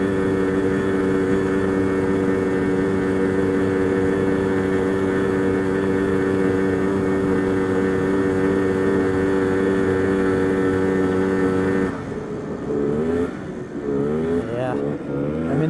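The small engine of a Polaris Scrambler 250 three-wheeler runs rough at a steady, loud, harmonic drone for about twelve seconds, then wavers and stumbles unevenly near the end.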